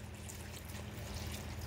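Water from boiled smoked ham hocks is poured steadily into a cooking bag, a continuous low splashing trickle heard close up with no talk.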